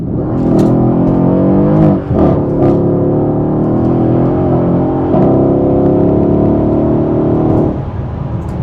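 A 2014 Mercedes E63 S V8 in Sport Plus accelerates hard, its loud, close engine note climbing steadily through the revs with brief dips at gear changes, then easing off near the end.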